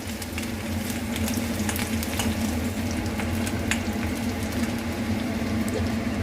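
Garlic frying in a pan for a broccoli pepper fry gives a steady medium-loud sizzle with faint bubbling and a scatter of small crackles and pops as it is stirred.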